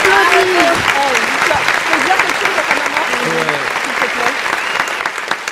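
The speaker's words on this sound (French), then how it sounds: "Et ça s'applaudit!" Audience applause at a French live show, dense and steady clapping with cheering voices mixed in, loud and sustained throughout.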